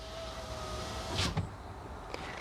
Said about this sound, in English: The window's working perfect.